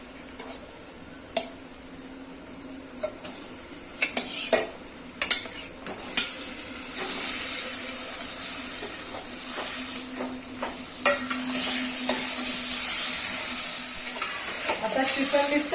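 Chicken being stirred into red-roasted onion in oil in a pot, steady sizzling frying with scraping and clinking of a spoon against the metal, close and continuous, no speech.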